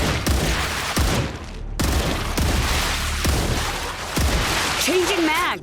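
Repeated gunshots from a weapon in the game StarRupture, sharp reports landing roughly once a second over steady loud combat noise, with a voice briefly heard near the end.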